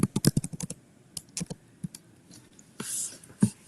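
Rapid clattering keystrokes on a computer keyboard, close and crisp, in bursts with short pauses between them.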